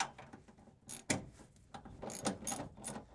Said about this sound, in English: I'm going to get started unbolting the steering box from the frame.